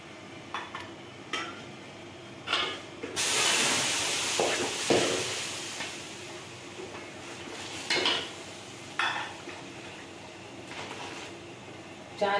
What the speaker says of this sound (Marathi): ते गरम उदक घालूया।